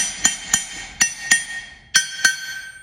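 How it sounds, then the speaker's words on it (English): Sharp metallic hammer strikes on an anvil while shaping adjustable ring bands in a jewelry studio, six crisp ringing blows in an uneven rhythm, close and clear with no talk. "So when I'm hammering"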